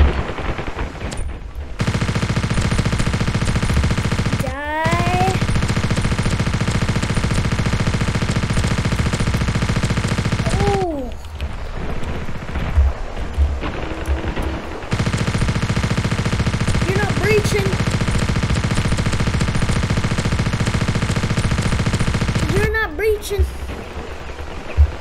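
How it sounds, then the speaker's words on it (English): Heavy, sustained machine-gun fire in the video game Ravenfield, dense and loud for long stretches with brief pauses, and whistling tones and a voice talking in the gaps. "We are under heavy fire."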